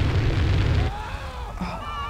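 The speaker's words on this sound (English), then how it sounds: "I'll just blow you up with this." Explosion in the video game GTA San Andreas, a loud short burst of rumbling blast that quickly fades into a lingering fiery crackle.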